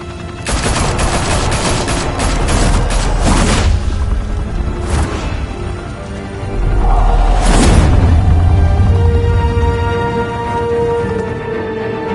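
Gunfire and explosions in a Batman video game, dense loud volleys of shots with heavy booms and crashing impacts sustained throughout, no talking.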